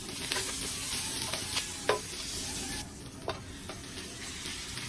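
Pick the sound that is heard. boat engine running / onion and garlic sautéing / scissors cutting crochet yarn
onion and garlic sautéing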